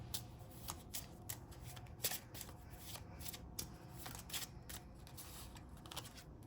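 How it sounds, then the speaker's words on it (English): Small fairy tale tarot cards are shuffled and handled close by, with a steady papery riffle and soft flicks throughout and a few sharper snaps. "Let me take one of these little tiny fairy tale cards."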